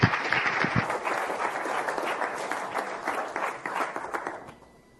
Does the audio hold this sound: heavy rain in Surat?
no